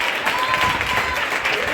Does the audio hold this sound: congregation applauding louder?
yes